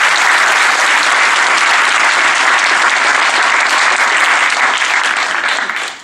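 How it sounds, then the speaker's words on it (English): Audience applauds the atheist team at a debate event, loud sustained clapping from a large crowd that stays even throughout and tapers only at the very end. "Please give them a round of applause."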